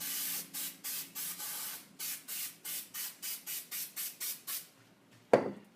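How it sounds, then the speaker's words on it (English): Spray adhesive hisses onto the back of a Halloween stencil in a rapid series of about a dozen short, even bursts, close and steady, followed by a single sharp click or clatter at the end. "So I'm just going to spray this on the back of the stencil"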